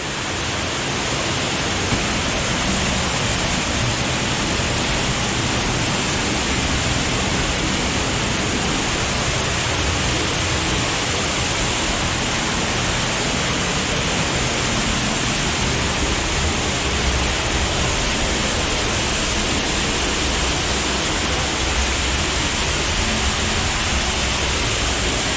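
A hidden waterfall inside a cave gives a loud, steady, dense roar of rushing water that fills the space unbroken for the whole stretch, with no voices over it.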